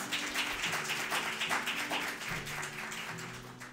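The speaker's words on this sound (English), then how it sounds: "Let's give the graduating class a round of applause" Audience applause for a graduating leadership class at a 2019 institute graduation ceremony, a dense, steady wash of many hands clapping throughout, fairly close and without speech over it.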